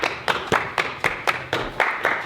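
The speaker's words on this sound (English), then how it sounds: "Everybody clap your hands." A group claps hands together in a steady, quick rhythm, about nine sharp claps in just over two seconds, fairly close and even in loudness, while decorating a tree.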